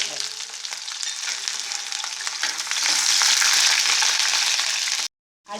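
A loud, steady sizzle of peeled garlic cloves frying in hot oil, with brief stirring scrapes, cutting off abruptly near the end.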